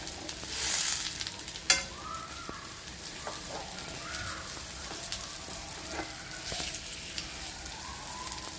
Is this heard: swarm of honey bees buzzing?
no